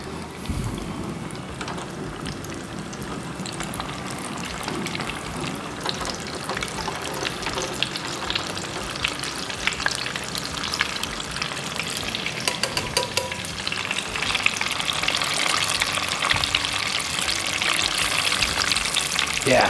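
Mozzarella sticks deep-frying in hot oil give off a steady, crackling sizzle and bubbling that builds and grows louder toward the end.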